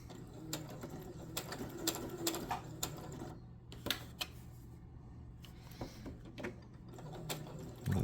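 A domestic sewing machine stitches a small craft project, running in short bursts with a brief reverse back stitch, steady mechanical whirring and ticking close by over a low hum.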